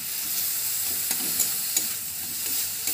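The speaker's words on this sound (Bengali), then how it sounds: "এগুলোকেও ভালোভাবে একটু নেড়ে চেড়ে মিশিয়ে নেব সমস্ত উপকরণগুলোকে" Capsicum pakora ingredients being stirred and mixed, a continuous bright hiss with soft rhythmic scraping strokes every fraction of a second, close and steady, no voices.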